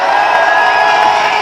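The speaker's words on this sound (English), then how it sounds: "Vous pouvez vraiment les applaudir très très fort." A crowd at the Europ'Raid 2019 rally cheers and applauds its mechanics, a dense, continuous burst of whoops and clapping that fills the whole moment.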